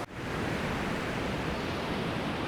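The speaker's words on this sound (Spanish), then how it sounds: "Escuchen el mar." Ocean surf washes steadily onto a sunny beach in Florianópolis during the quiet off-season, a loud, continuous broadband roar of breaking waves with no voices.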